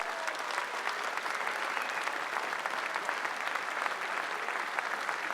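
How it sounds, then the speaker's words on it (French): Steady, dense applause from an audience at a cattle show, cheering five cows, sustained and even throughout with no pauses, heard from a moderate distance. "je peux vous demander tout d'abord un tonnerre d'applaudissements pour ces 5 vaches"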